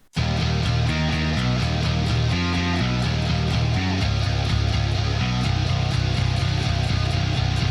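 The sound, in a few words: electric guitar riff at the bridge of a song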